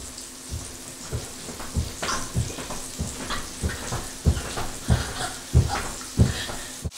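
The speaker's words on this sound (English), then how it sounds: "Okay, now we're flipping this meat." Pot roast meat sizzles in a hot pan as it is flipped and browned, a steady frying hiss over a low hum, punctuated by repeated thumps and scrapes of the utensil at irregular intervals.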